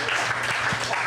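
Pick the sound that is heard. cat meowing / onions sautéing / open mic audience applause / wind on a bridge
open mic audience applause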